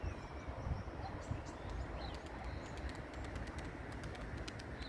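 Arab tumbler pigeons coo and flutter outdoors against a steady rumble of wind or background noise, with scattered faint chirps throughout.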